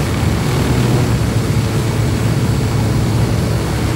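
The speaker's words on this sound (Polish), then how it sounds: "A jak już jestem tym helikopterem, no to przelecę się." A helicopter in Ghost Recon Wildlands flies along with a loud, steady engine and rotor drone that holds constant throughout, close and unbroken, with no one talking.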